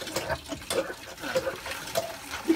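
Tap water runs and splashes unevenly while plates are washed in a sink, with the flow rising and dipping in uneven bursts.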